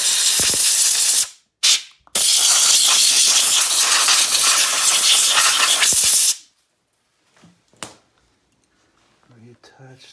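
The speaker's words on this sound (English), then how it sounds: "And take a compressor again and just spray it down." Air compressor nozzle blasting down a 33cc Rapala Vortex ice auger during maintenance, loud sharp hissing bursts that cut in and out, then a long steady blast that stops abruptly, followed by quiet handling sounds.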